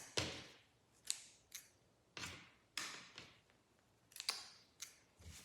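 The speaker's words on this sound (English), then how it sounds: "I'm going to cut my loose threads." Scissors clip loose threads from a sewn pillowcase, about eight crisp, close snips spaced roughly half a second to a second apart, quiet and alone.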